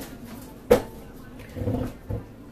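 A kitchen freezer door gets shut with a sharp thump, followed by softer rustling and a second muffled knock as the door is settled closed.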